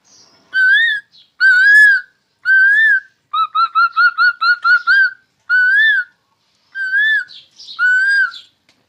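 A man whistles an imitation of a koel's call: clear, loud, rising notes repeated with pauses, plus a fast run of short chirping notes in the middle.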